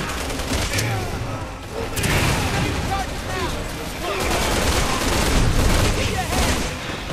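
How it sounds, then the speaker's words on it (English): Dense, continuous gunfire and booming blasts fill a Resident Evil 6 firefight, with a grenade among the rapid overlapping shots, loud and close with little pause, while a voice talks at times over the din. "Right, I'm gonna use my grenade."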